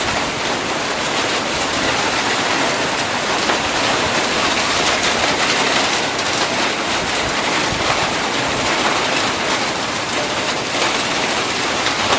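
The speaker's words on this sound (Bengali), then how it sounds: "হঠাৎ করে যে ঘূর্ণিঝড়ের বাতাস শুরু হয়ে গেল" Strong cyclone wind sweeping through a village, a loud, dense, unbroken roar that holds steady without pauses for the whole stretch.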